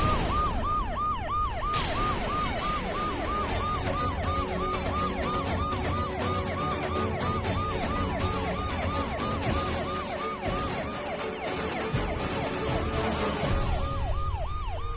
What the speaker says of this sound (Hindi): सायरन की आवाज आ रही है, पुलिस किसने बुलाई?